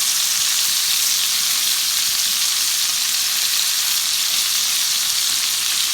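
Lamb lollipop chops with onion fry in a pan, a loud, steady, close sizzle and crackle that holds constant throughout without a break.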